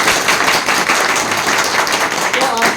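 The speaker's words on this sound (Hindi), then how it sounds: "तो ताली बजाइए" An audience at an RCM business meeting in India claps together, a dense, loud and continuous burst of applause that fills the whole moment without a break.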